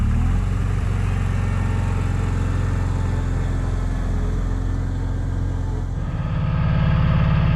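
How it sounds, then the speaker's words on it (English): An old Bohlins QT16 tow tractor engine idles loud and close, a steady low rumble that shifts to a rougher, deeper pulse near the end. "we got the old Bohlins QT16 tow tractor fired up here"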